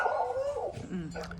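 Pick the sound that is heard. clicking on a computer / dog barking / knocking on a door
dog barking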